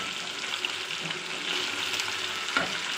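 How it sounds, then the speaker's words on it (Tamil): Chicken 65 and curry leaves deep frying in hot oil, a steady close hiss and sizzle with light crackling bubbles and a faint stir near the end, heard alone without talk. "இப்போ இந்த ஸ்டேஜில் வந்து நம்ம மேலே கருவேப்பிலை போட்டு பொரித்து எடுத்துக்கலாம்."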